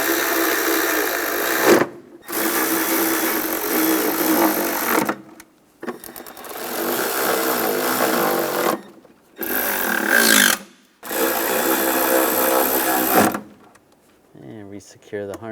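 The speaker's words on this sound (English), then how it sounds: "Now I can snug those all down." Bolts on the knock sensor of a 1996-2002 Toyota 4Runner engine are run down with a power tool in several loud whirring bursts separated by short pauses.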